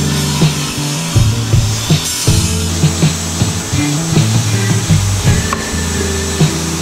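A table saw fitted with a dado blade cuts wooden test pieces from pallet wood, giving repeated loud rasping, grinding passes over a steady motor whine, each cut close and prominent.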